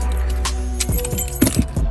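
Car keys jangle and clink in several quick bursts, close and fairly loud, with no speech.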